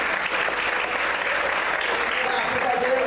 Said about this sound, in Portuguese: Quantos podem aplaudir o Senhor e glorificar a Deus nessa manhã?